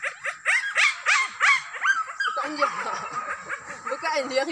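Several hunting dogs on a wild boar hunt bark and yelp excitedly in rapid overlapping bursts close by, the barking gradually turning into whines and yips, with people talking in the background.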